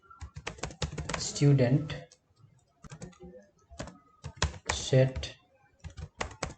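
Code is typed on a computer keyboard in bursts of rapid, close key clicks, with pauses between them. Someone speaks briefly in between the keystrokes.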